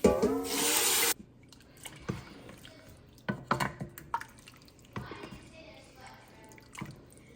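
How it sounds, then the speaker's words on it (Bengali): Hot water being poured into fried rice in a pot for chicken biryani gives a loud, steady gush for about a second, followed by quieter clinks and drips close by. "চাউলগুলা কষানোর পর পানি দিয়ে দিচ্ছি গরম পানি"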